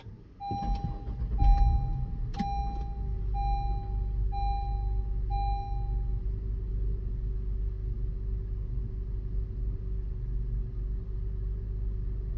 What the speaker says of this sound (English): Now let's go ahead and start the vehicle.